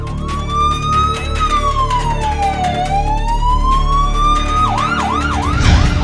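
An ambulance siren wails loudly and close, sweeping slowly up and down in pitch and then switching to a rapid yelping pattern, with traffic rumbling underneath on an Indian road.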